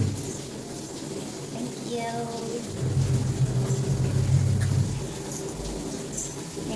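Water runs steadily from a tap into a drum, a continuous splashing rush that swells louder midway and then eases, with a brief rattle of handling noise near the start.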